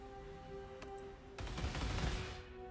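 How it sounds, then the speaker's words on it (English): Blade Vortex detonations in the Path of Exile game: a rapid crackling burst of many small explosions that erupts after a quieter stretch with a couple of sharp clicks, dense and clattering, then trailing off. "when combined with Blade Vortex, it can detonate this Blade Vortex and create a bunch of explosions"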